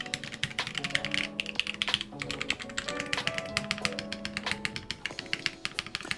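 Rapid typing on a mechanical keyboard fitted with 1.6 mm thick PBT keycaps, a dense run of close, crisp key taps and clacks that continues steadily with no talking.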